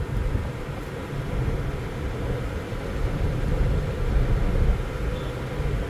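Engine of a 2007 Chevy Impala SS with a 5.3 Vortec V8 while driving, a steady low rumbling drone heard from inside the car, swelling slightly mid-way with road noise.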